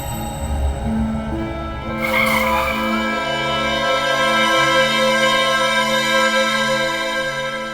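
A car brakes hard to a stop, its tires skidding with a loud, sustained squeal that starts abruptly and holds steady to the end, with engine rumble underneath.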